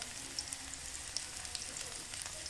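Spices sizzling in hot cooking oil for ampalaya with egg, a steady, soft hiss of frying with faint crackles and pops, close by and without any voices.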